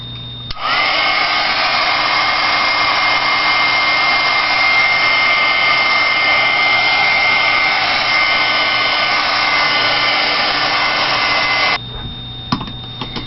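A hair dryer or heat tool dries craft paint on a Halloween paper layout, a loud, steady whirring blast running nonstop for about eleven seconds before cutting off abruptly, followed by a few faint handling clicks.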